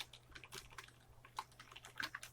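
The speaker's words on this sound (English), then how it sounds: "we can type as much text as we want" Typing on a computer keyboard, a quick irregular patter of light key clicks, close and quiet, with no voices.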